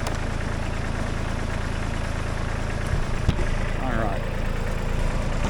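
Kubota B-Series compact tractor engine idling, a steady low rumble with mid-range vibration running throughout, close and fairly loud, with someone briefly speaking over it.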